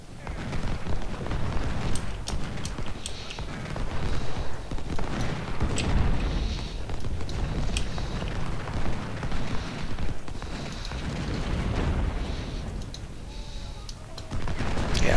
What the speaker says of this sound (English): His cannons in the woods here.